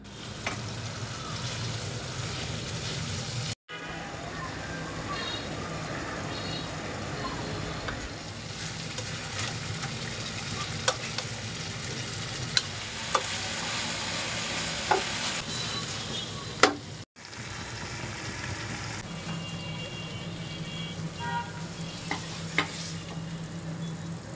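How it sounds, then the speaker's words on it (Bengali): Already-fried naga chicken wings sizzle again in a pan of fiery chili sauce, a continuous close crackle broken by occasional stirring clicks and scrapes, and no one speaks. "এখন ভেজে রাখা উইংসগুলো এর উপর দিয়ে খুব সুন্দর করে আরেকটু ভেজে নেব।"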